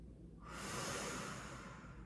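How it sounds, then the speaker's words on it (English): One long, deep exhale through the nose, audible and close, starting after a quiet moment and held for well over a second, taken in a forward-rounded Pilates stretch. "Take 2 deep breaths."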